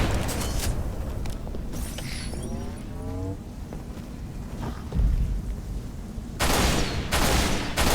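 Gunfire in the Halo: Reach campaign on Legendary at Sword Base: bursts of automatic fire and blasts, with a rising whine in the middle and heavy, sustained volleys near the end, loud and with no talk.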